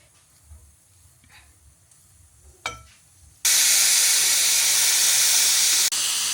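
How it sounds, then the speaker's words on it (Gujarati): A loud, sustained hiss of steam bursts out suddenly after a quieter stretch, continuing steadily to the end, as a pressure cooker of veg biryani vents. "અહીંયા આપણું કુકર ખુલી ગયું છે"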